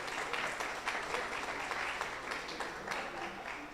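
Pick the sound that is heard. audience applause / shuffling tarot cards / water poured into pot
audience applause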